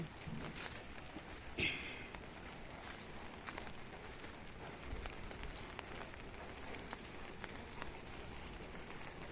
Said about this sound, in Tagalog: Maglalakad tayo sa ulan.